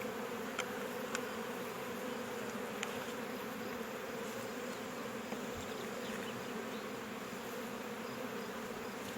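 Honeybees buzz steadily in an open hive during an inspection of the frames, a dense continuous drone at even loudness throughout, with a few faint knocks and no talking.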